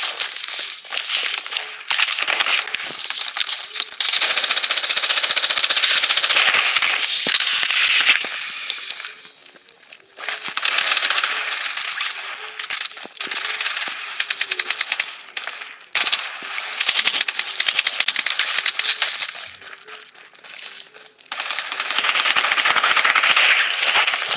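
Rapid bursts of gunfire fill a squad-based video game firefight, dense crackling volleys running almost continuously with a few brief lulls, loud and close.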